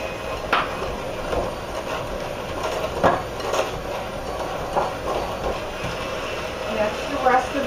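An electric mixer running on high speed, beating brownie batter with brown sugar, gives a steady whirring drone throughout with small knocks and clatters from the bowl.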